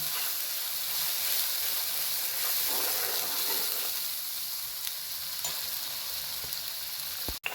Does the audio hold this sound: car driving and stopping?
no